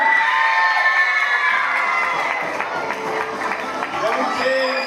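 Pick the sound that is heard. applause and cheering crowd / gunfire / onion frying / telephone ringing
applause and cheering crowd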